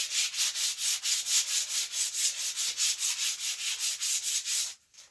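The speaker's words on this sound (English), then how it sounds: "watching me sand a sinew back" Worn 120-grit sandpaper rubbed by hand over the sinew-backed tip of a horse bow, a fast, even back-and-forth scratching rhythm, close and steady, stopping abruptly at the end.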